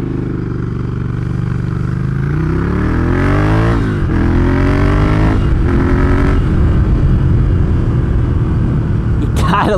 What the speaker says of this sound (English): I'll rev it through the gears a little bit.